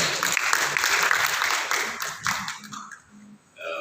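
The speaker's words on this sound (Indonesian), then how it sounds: "Kita berikan aplaus untuk Bu Menteri." Applause for the minister at a DPR parliament meeting: a dense, steady burst of clapping from a crowd in a meeting room, loud for most of the stretch and then thinning out and fading near the end.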